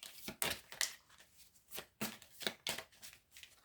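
Tarot cards are handled and drawn in a series of quiet, crisp shuffling riffles and slaps, arriving in short irregular bursts with brief pauses between them.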